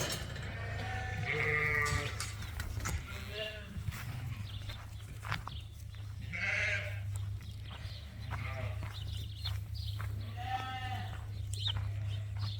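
Several sheep resting on a farm bleat close by, repeated calls scattered over a low steady hum, with occasional shuffling movement and a voice in the background.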